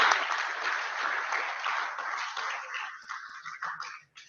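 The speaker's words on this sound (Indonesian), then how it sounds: "Tepuk tangan." Applause for a guest at an online badminton show, a burst of clapping that thins and tapers off over a few seconds.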